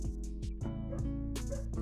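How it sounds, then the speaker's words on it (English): Dogs in a yard give short yips and whimpering barks in quick, uneven bursts, fairly close and clear with no talking over them. "And I do apologize about the dogs barking in the yard."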